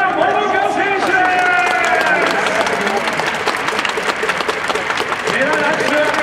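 A stadium crowd at a Yakult Swallows versus Yomiuri Giants game at Jingu in 2022 applauds Paralympic gold medalist Momoka Muraoka's ceremonial first pitch, a broad, continuous clatter of clapping under a public-address voice speaking.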